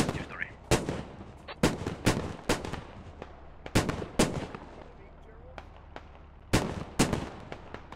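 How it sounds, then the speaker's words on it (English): Sharp gunshots crack in an Operation: Rawhide firefight, single and paired reports spaced irregularly over several seconds, loud and close with short gaps between volleys. "Jakey's shooting at Evan SMA."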